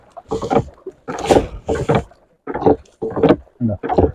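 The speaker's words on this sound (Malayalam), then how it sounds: "ഒരു പ്രത്യേക മെത്തേഡിലാണിത് തുഴയുന്നത്" A rowing boat on Karlad Lake, with a run of roughly seven rhythmic paddle strokes splashing and knocking at a steady pace, close and clear.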